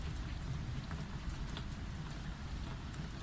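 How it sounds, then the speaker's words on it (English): Steady rain ambience from a visual novel game's ambient track, a dense, continuous patter with a low rumble beneath, even and unbroken throughout, no talk. "Oh, I like that rain volume. It's like that's the ambient track we've got."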